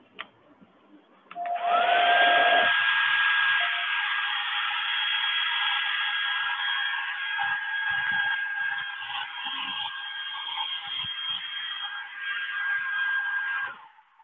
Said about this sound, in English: We can use a hair dryer